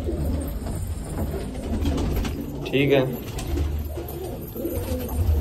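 Pigeons cooing inside an emptied loft with a net fitted, a soft rolling coo standing out midway over a steady background hum, with a person speaking briefly nearby.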